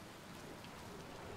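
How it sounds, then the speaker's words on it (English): Steady rain pattering on a spacesuit helmet during a storm in the space exploration game Outer Wilds, a dense, even hiss of droplets close up, with no voices. "Oh, and the raindrops and stuff on my helmet."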